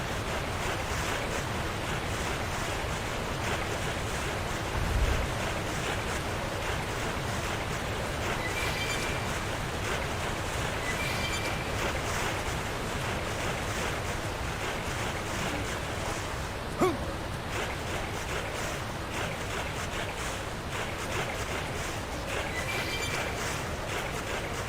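A waterfall in the Xenoblade Chronicles X Definitive Edition game roars as a continuous, dense rush of falling water, even and unbroken for the whole stretch, with no talking.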